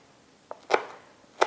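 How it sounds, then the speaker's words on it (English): Knife chopping fresh chives thinly on a cutting board: three crisp, close chops, a light one followed by two sharper cuts about 0.7 seconds apart. "I will start to cut my chives"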